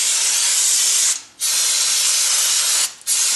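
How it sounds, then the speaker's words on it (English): An aerosol cleaner can hisses in two long sprays, each over a second, with brief pauses between bursts, close and loud, while cleaning a 2000 to 2005 Neon rear hub assembly. "We're just going to spray everything down."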